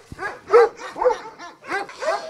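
A large male dog, four to five years old, barking in a quick series of loud, close woofs with short gaps between them.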